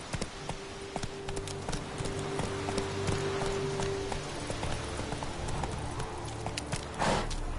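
Roach, a horse in The Witcher 3, gallops in a steady rapid clip-clop of hooves, fairly quiet and up close, with soft ambient game sounds behind it and no speech.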